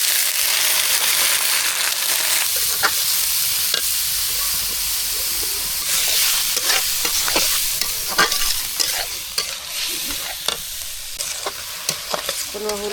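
Onion and garlic frying for a village-style dal are stirred in a hot pan, giving a steady close sizzle broken by repeated scraping strokes of the spoon.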